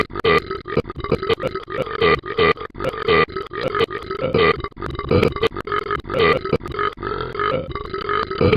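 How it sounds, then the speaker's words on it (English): A long run of loud, rapid, gravelly burps repeats back to back, close and dry, with no talk. "I hate that glitch burp."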